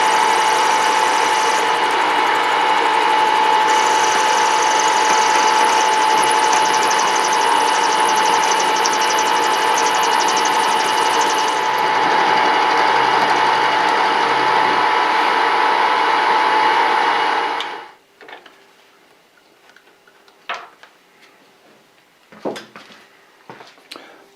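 A metal-cutting machine steadily shaves a steel part for a machinist vise, a loud continuous whine with a tonal hum that runs for about eighteen seconds, then cuts out, leaving faint clicks and handling noises.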